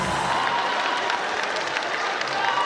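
A student contest audience at Mister KPI 2013 claps in steady, dense applause throughout, with some crowd murmur mixed in.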